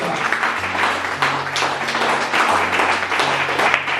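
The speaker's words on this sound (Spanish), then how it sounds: "Den un aplauso al Señor Jesucristo." A church congregation applauds during a Spanish-language sermon, a sustained roomy wash of clapping over a low droning organ or keyboard tone that holds steady beneath it.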